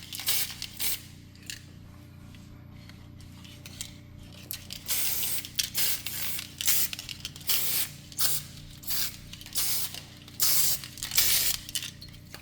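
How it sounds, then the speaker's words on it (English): Repeated short hissing bursts of aerosol cooking spray onto muffin pans and liners, some quick and some longer, against a quiet background hum. "And I'm going to spray the muffin pans, the muffin liners."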